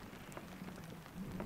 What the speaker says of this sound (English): This is the nicest little rainstorm I've ever been in.